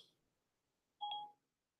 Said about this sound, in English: I'm pressing and holding the home button until it beeps